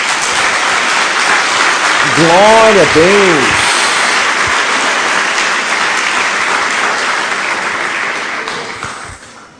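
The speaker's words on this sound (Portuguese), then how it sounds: "Dê uma salva de palmas a Jesus." A church congregation claps for Jesus in a sustained, loud burst of applause that fills the room and slowly tapers at the end, while someone briefly speaks over the clapping.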